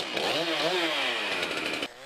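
A chainsaw carving a wooden sculpture runs steadily at close range, its engine buzzing loud and continuous with slight shifts in pitch as it bites into the wood, cutting off near the end.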